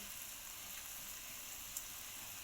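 Green chili dropped into hot oil with frying prawns, salt and turmeric, giving a steady, soft hiss of sizzling with a tiny pop near the end, no voices.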